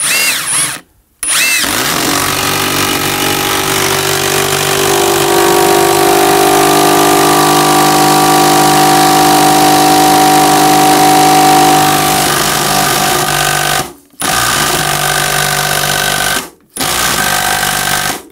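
A loud impact driver runs continuously with a steady mechanical whine and rapid hammering rattle, the hammer action missing a bit, stopping briefly a few times before resuming.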